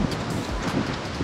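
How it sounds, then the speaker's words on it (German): Strong stormy wind roars steadily across the microphone outdoors during a long road bike ride, a dense continuous rush with no voices. "Ihr hört es vielleicht im Hintergrund, es stürmt wie verrückt."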